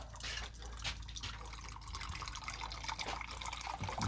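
A margarita strained from a shaker into a glass over ice, a steady close trickle and drip of liquid lasting throughout with a few small splashes, no talking.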